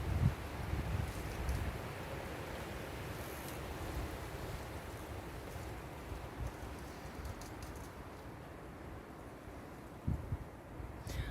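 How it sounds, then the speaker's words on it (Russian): Strong wind roars outdoors around a young tree, a steady broad rush with gusty low buffeting, moderately faint and without any voices. "Жуткий ветер."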